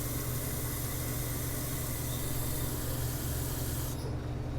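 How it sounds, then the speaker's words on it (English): Cold tap water rushes steadily into a container, a loud continuous hissing spray that cuts off abruptly near the end. "you're going to fill it up about halfway with cold water"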